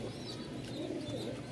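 Pigeons coo softly and steadily at a pigeon market in Mirpur, a low, faint murmur of calls.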